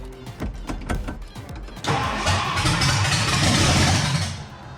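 A 1962 Mercury engine cranks with a quick run of rhythmic starter pulses, then a louder, rougher sustained roar that continues for about three seconds before fading slightly. No one speaks.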